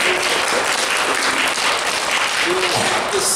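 Audience at a Korean company staff speech session breaks into steady, loud applause, a continuous dense patter of clapping lasting a few seconds with a faint voice underneath.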